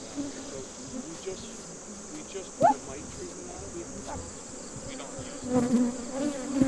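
Honeybees buzzing outdoors among wildflowers on a Hudson Valley farm, a steady insect drone with individual bees passing close by now and then.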